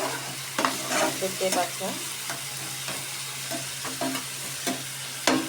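Tomato, ginger and green chili paste sizzles steadily in a pan while a spoon stirs and scrapes in irregular strokes, close and clear, with brief speech over it.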